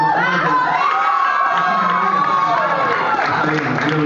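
An audience at a benefit concert in Argentina cheers, whoops and claps loudly, the crowd noise swelling with high shouts and voices layered over dense applause throughout.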